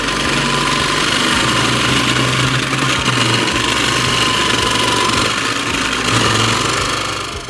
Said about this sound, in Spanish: Y vamos a prenderlo. A rallar nuestras zanahorias.